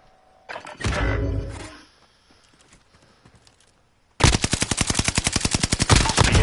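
A Bren heavy gun fires in Warzone, a long rapid burst of evenly spaced shots from about four seconds on, loud and close, after an earlier single heavy blast and a quiet stretch.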